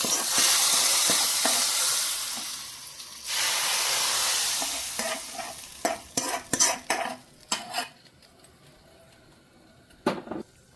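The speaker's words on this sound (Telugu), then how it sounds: "పోపుని పప్పులుసులో వేసేద్దాం." Hot tempering with curry leaves tipped into a pot of lentil stew (pappu pulusu) bursts into loud, broad sizzling that fades over a few seconds, followed by several sharp spoon clatters and stirring knocks, with no talking.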